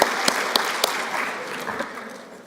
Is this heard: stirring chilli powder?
no